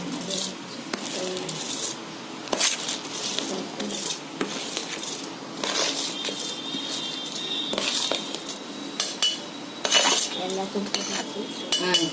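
Soaked rice, a kilo of it, is tipped into a pot for vegetable biryani, with metal clinks, scrapes and stirring rattles of cookware recurring throughout, birds cooing faintly in the background.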